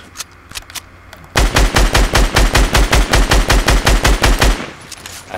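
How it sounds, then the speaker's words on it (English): Rapid automatic gunfire in the video game Fortnite, a few scattered shots followed by a loud, steady burst of about twenty evenly spaced rounds lasting roughly three seconds, close and dominant, with no talk over it. "Shoot that wall, Harry."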